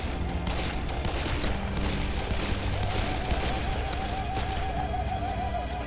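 Sustained gunfire rattles through the Darkest of Days video game, a dense fusillade of overlapping shots under a steady din with a wavering tone in the background, loud and continuous throughout.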